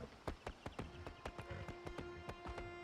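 Horse hooves clip-clopping in the video game Palia, a quick even series of sharp hoof strikes over a steady musical tone, close and clear.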